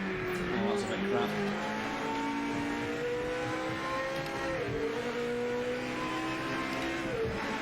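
A GT500 race car in the racing game Project Motor Racing, its engine revving and shifting up and down in sweeping tones over steady road and tyre noise throughout.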